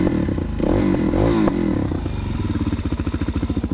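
A Suzuki DRZ 400SM supermoto with a Leo Vince exhaust starts on its electric starter, then settles into a loud, close, rhythmic thumping single-cylinder idle.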